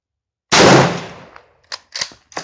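A single loud, close rifle shot from an M1916 Spanish Mauser chambered in 7.62x51 NATO, with a sharp crack and a decaying boom, followed by a few faint clicks and handling knocks.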